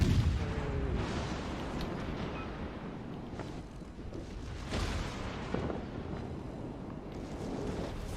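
HMS Cheshire's secondary guns fire in World of Warships Legends as a steady roar of naval gunfire with heavy low rumble, broken by repeated booming blasts at sea with wind noise.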